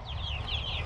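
Chickens clucking softly in a Texas backyard coop, a steady faint murmur of several birds over low rumbling background noise.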